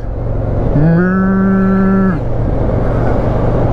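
A cow lets out one long, loud moo close by, heard from a motorcycle in rural Aberdeenshire, over a steady rumble of wind or engine noise.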